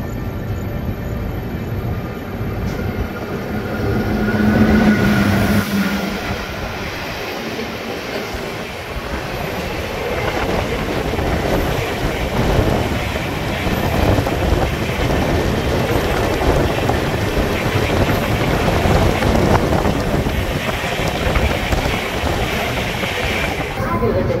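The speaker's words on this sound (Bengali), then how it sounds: "আর দরজায় আসতেই আমাদের সাথে দেখা হয়ে গেল train number 13303 Ranchi Dumka Dhanbad intercity" Train 13303, the Ranchi Dumka Dhanbad Intercity Express, passes close by with a loud, continuous roar, rumble and clatter of wheels and carriages that stays heavy for the whole stretch.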